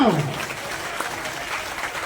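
An audience claps at a community honouring ceremony, a brief dense patter of applause following a voice on a loudspeaker at the start.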